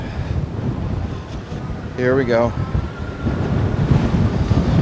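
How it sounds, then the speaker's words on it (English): Strong wind buffets the microphone with a constant low roar, a voice speaking briefly over the gusts. "It is a windy, windy day."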